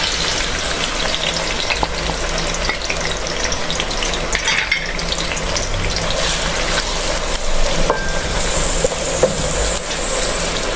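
Chopped onions fry in oil in a kadhai on a stove for raajma, giving a loud, continuous close sizzle with faint stirring scrapes throughout.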